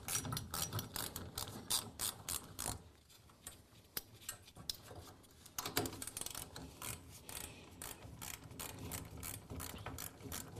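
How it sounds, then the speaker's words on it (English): Set screws being loosened on the cable drums of a garage door torsion spring system, giving rapid ratcheting clicks in repeated bursts at close range, with no talking. "Just loosen up the set screws is all I'm doing."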